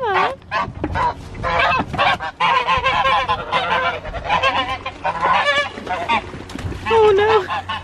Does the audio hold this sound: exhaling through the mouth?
no